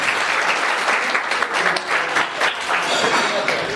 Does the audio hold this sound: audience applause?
yes